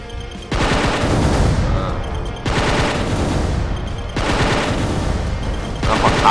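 Loud bursts of rapid gunfire from a weapon in the Roblox game SoulShatters come in three sustained volleys, each lasting over a second, separated by brief pauses.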